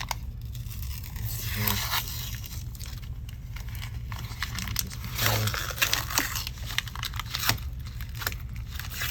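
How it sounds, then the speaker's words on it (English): Protective plastic backing is peeled off a laser-cut peroxide light mask, giving close, continuous crinkling, crackling and tearing with small scraping bursts. "So I'm just going to peel the entire back off."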